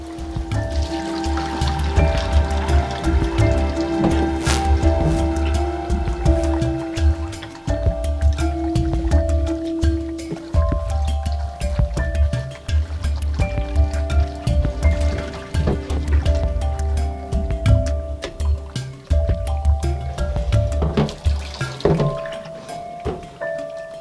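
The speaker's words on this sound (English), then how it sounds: "the water will get clearer as you continue kneading" Seitan dough is kneaded and squeezed in a bowl of water, giving continuous sloshing, squelching and dripping over a steady low hum, with soft background music.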